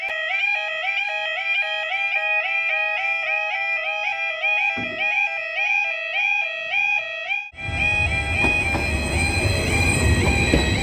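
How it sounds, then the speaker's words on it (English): At a single-platform station beside a level crossing, the crossing's alternating warning tones ring steadily. A train then rolls in with a loud, close rumble and wheel noise. "I can hear the train even before the level crossing barriers have come down."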